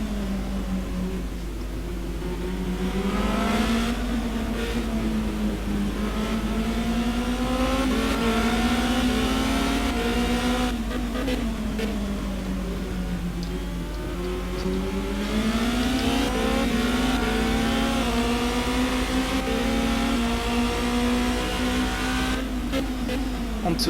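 Race cars in a sim racing league event at the Brazil circuit, engines held near full throttle, a loud continuous roar whose pitch rises and falls through gear changes for the whole stretch.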